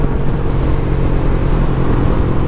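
A Yamaha MT-03 motorcycle fitted with a full exhaust idles and rumbles nearby, a steady deep throbbing engine note held throughout with no one speaking.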